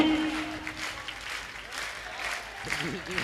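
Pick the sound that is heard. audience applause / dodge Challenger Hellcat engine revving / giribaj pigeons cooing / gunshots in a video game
audience applause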